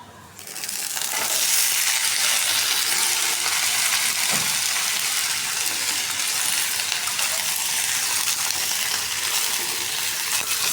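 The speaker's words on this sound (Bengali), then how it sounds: "ভাত হয়ে গেছে, ভাজির জন্য পেঁয়াজ আর মরিচ দিয়ে দিলাম।" Onions and chilies frying in oil for a vegetable dish: a loud, steady sizzle bursts up within the first second and hisses on without a break, close by, with faint stirring and no talking.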